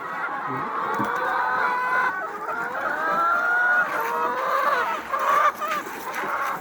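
A flock of nearly four hundred chickens, including laying hens, on a vegetable and poultry farm, producing a dense, continuous chorus of overlapping clucks and drawn-out calls at close range.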